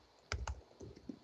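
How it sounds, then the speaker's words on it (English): A computer keyboard clicked a few times, with two crisp, close key presses followed by softer, fainter taps in a quiet room. "and then I hit return on the keyboard to enter"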